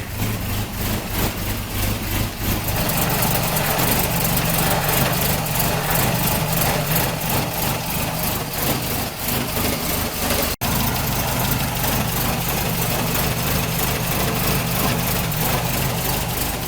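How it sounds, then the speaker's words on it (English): A Triumph TR4A engine idles steadily at close range while warming up, a continuous rumbling hum with a rapid rhythmic pulse and no voices over it. "Now I just got to let the engine warm up so the thermostat opens up."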